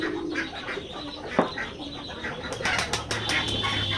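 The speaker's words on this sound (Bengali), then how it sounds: "এটা আমাদের ফার্ম হাউস, কবুতরের খামার।" Pigeons at a pigeon farm flap their wings in a quick, clattering flurry of beats that grows busier toward the end, close by with no talk.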